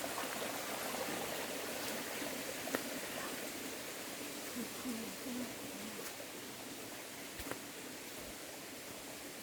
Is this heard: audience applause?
no